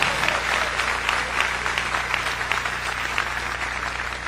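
Congregation applauding during a church service, many hands clapping in a full, steady wash over a low constant hum, moderately loud and without speech.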